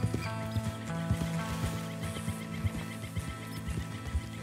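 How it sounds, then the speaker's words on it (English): Horses in Red Dead Redemption 2 being herded toward open plains, hooves clip-clopping in an uneven rhythm close by, with a whinny among the steady game ambience. "Herd the horses to the open plains."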